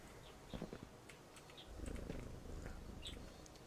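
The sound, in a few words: cat purring when petted, in the video game Viewfinder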